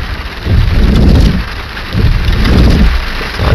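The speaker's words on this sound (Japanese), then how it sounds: "ワイパーの音がなんか壊れそうなんだけど、" Rental car windshield wipers sweep in a slow back-and-forth rhythm, each pass a low swishing rise that sounds close to breaking, over steady rain and road noise inside the car.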